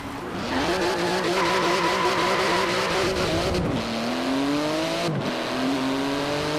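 Street-legal, near race-spec car driven hard in Forza Horizon 4: a loud engine revs and climbs through gears, drops at shifts, with tire squeal and skidding between pulls.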